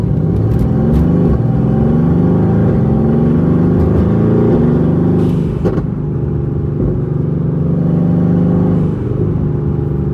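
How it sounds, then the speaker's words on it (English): A loud, deep Mercedes-AMG GT R engine of over 800 horsepower rumbles and revs continuously, its pitch rising and falling with short bursts of acceleration, heard close up from inside the cabin with windows closed. "Man, the noises this car makes, it is unlike anything I've ever driven."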